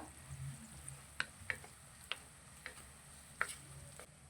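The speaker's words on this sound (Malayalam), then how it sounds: "ഇനി എല്ലാം കൂടെ നമുക്ക് നല്ലപോലെ ഒന്ന് വഴറ്റി മൂപ്പിച്ചെടുക്കാം" Green chilies, curry leaves and turmeric sautéing in oil in a pan for a Kerala-style tamarind pickle, a low steady sizzle broken by several sharp spoon clicks and scrapes against the pan at irregular intervals.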